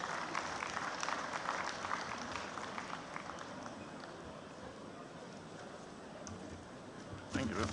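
Audience applause fills an opening ceremony hall as a guest heads upstairs to the stage, a steady dense clapping that holds evenly throughout and swells briefly louder near the end.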